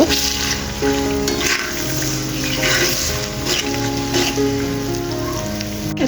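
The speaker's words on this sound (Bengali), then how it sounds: "এখন আচারটাকে সুন্দর করে তেলের মধ্যে ভেজে নেব" Raw mango pickle fries in oil in a home kitchen, a dense, steady sizzle and crackle that continues throughout, close and fairly loud, with no talk over it.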